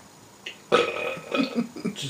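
A loud, drawn-out burp that lasts over a second, made close to the microphone with a rough, gurgling tone and a few wet pulses toward the end.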